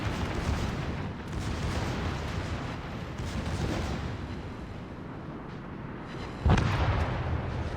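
Battleship main guns fire a salvo in a naval combat game, a deep booming crack landing late over steady rumbling ocean and engine noise, moderately loud and somewhat distant.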